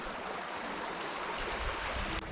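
Sandy Creek flowing through rocky canyon country in the Wichita Mountains, a steady broadband rush of moving water heard close and fairly loud, cutting off abruptly near the end.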